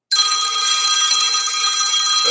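A mobile phone rings loud and close, one sustained electronic trill that starts suddenly and carries on for about two seconds with no voices over it.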